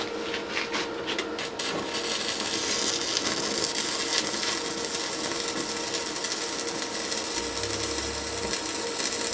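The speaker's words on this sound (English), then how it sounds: "This first weld is a 60-13 rod running at 70 amps." Stick welding with a 6013 rod at 70 amps on an R Tech TIG 160 welder, a steady, dense crackling hiss of the arc running continuously and close, with no voices.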